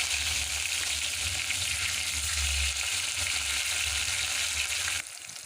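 Onion pieces, green chilli and tempering seeds fry in hot oil in a pan for a cucumber-tomato curry, giving a loud, steady close sizzle with a crackling hiss that drops off abruptly near the end.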